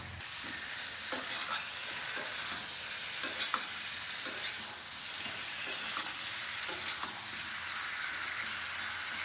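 Food frying and being stirred in a pan while crab curry with bottle gourd is cooked, a steady close hiss of sizzling oil with repeated scraping strokes of a spoon throughout.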